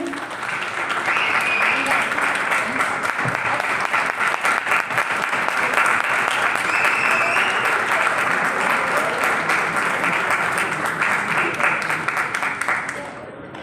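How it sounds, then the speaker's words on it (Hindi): A seminar audience in Dehradun breaks into loud, sustained applause welcoming Yogesh sir, dense clapping running steadily for over thirteen seconds with faint voices mixed in. "तालियां योगेश सर के लिए।"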